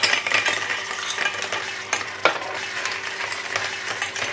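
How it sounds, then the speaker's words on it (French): Cockles going into melted butter in a saucepan, a continuous bright sizzle mixed with clattering shells and metallic stirring scrapes, close and loud with no talking. "Après, on va mettre les coques."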